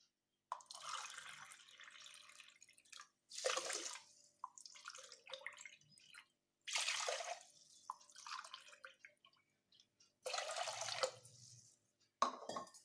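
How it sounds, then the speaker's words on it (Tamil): Three cups of water pour into a pressure cooker holding rice and grated pumpkin, coming as several separate splashing gushes with quiet gaps between them, close and fairly soft. "இதில் இப்போ 3 கப்பு தண்ணி ஊற்ற போகிறேங்க."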